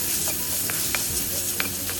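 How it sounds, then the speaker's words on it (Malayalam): Soya chunk masala with tomato being stirred in a hot pan, a close steady sizzle broken by a few scraping spoon strokes. "എല്ലാം കൂടെ ഒന്ന് മിക്സ് ചെയ്യുക."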